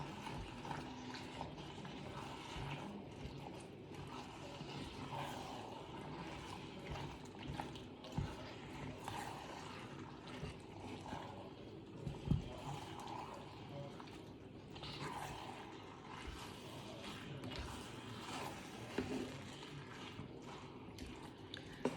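Water poured into a thick homemade gravy on the stove, a steady liquid splash and trickle running through the whole stretch under a busy kitchen background.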